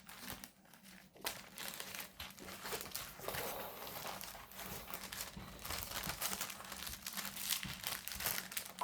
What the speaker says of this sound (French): Je sais pas si t'entends au bruit du papier.